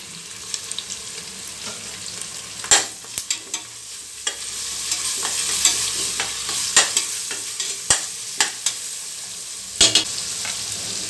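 Onions fry in a pan for mutton biryani, a steady close sizzle broken by sharp spatula clicks and scrapes against the pan, with no talking.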